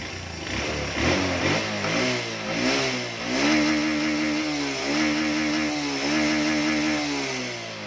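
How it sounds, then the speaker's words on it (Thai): A repaired Honda Wave 110i motorcycle engine idles close by, with a steady mid-pitched hum and a few gentle rises and falls in revs. "ให้ฟังเสียงครับ เครื่องเงียบไหมครับ อ่าเงียบเหมือนเดิมเหมือนออกจากศูนย์แล้วเนาะ"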